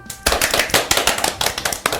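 A studio audience claps at the opening of a Korean talk show, a bright burst of quick, rhythmic clapping that starts sharply and continues briskly and close for under two seconds.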